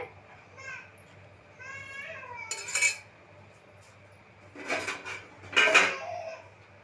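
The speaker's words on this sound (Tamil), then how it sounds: "உப்பு போட்டு கலந்து விட்டுட்டு" A spoon scrapes and knocks against a pot three times while salt is stirred into an oily brinjal curry, with children's voices chattering in the background.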